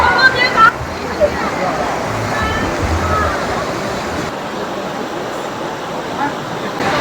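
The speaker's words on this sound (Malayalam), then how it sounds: "ആനനെ കുളിപ്പിക്കാണ്." Steady broadband rush and splashing of water as elephants are bathed in a river at an elephant orphanage near Kandy, Sri Lanka, continuous and fairly loud throughout.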